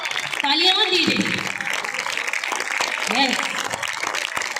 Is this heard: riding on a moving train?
no